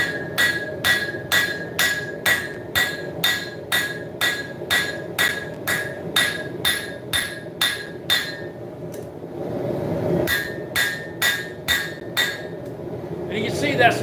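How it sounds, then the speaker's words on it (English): Steady rhythmic hammer blows forging bevels on a hot steel blade made from a .50 cal machine gun barrel, ringing metallic strikes about twice a second, close and loud, pausing briefly before a few more blows. "Start forging out these bevels."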